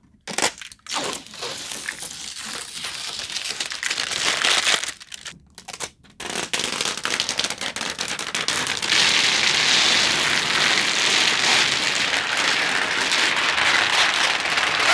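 Protective plastic film being peeled and crinkled off a Hisense U8K television, a close, loud, continuous crackling and tearing rustle with brief pauses early on, then a steady sustained crinkle.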